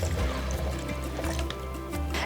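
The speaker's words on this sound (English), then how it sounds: "So let's just go ahead and add the 3 cups of filtered water." Filtered water pours steadily into a blender jar for homemade plant-based milk, a continuous liquid fill with a rising gurgle, close and fairly loud, with no talking over it.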